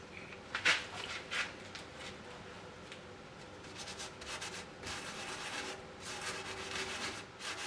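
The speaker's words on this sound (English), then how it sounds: "Rub sawdust in it." Sawdust rubbed into a glued crack in a turned walnut and holly wooden cup, a close, soft, steady scratchy rubbing with a few sharper scrapes early on, no talk.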